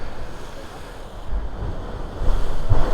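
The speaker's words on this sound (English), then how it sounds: "we'll just stand here for a minute and see if we get a blast of water so you can see what the Kiama" Ocean surge at the Kiama Blowhole rumbles in a low, steady wash that builds into a louder rush toward the end, with wind buffeting the microphone.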